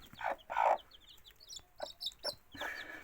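A mother hen clucks softly and close by, with a few low clucks and thin peeping chicks in a quiet setting.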